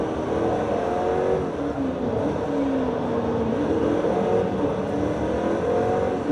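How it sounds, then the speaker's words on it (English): Bugatti Veyron engine in the racing game Forza Motorsport 3, a continuous loud drone with shifting pitch as the supercar revs and accelerates, steady for several seconds with no talk. "This car sounds pretty fierce."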